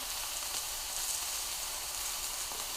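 A steak sears in a skillet on a stovetop, producing a soft, even sizzle that holds steady throughout at low volume, with no voices.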